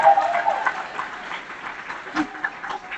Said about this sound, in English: Huge round of applause for Zion Parsons